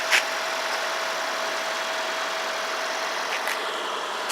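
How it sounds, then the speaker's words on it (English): A 2017 Toyota RAV4 engine idles steadily with an even, smooth hum and a faint whine, heard close with a couple of brief clicks and no talking. "Really clean engine in here."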